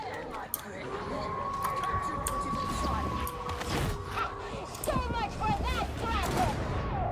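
A single sharp sniper shot cracks out near the start of a video game round, followed by continuous game ambience with layered effects and chatter from players.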